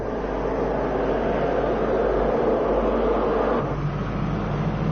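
Steady engine drone and road rumble from inside a moving car, continuous and even throughout, with no voices.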